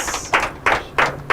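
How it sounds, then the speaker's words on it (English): At a school quiz competition, a few sharp, rhythmic claps ring out close by at regular intervals, like one or two people clapping in slow time rather than a full crowd. "a round of applause to our two schools"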